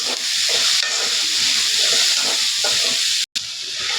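Fish is frying in a pan with turmeric, coriander powder and salt, giving a constant loud sizzle and hiss from close up. There is a very brief break near the end, and no talking.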